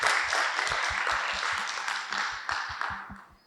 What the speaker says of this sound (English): Can we give Vanessa a well-deserved round of applause?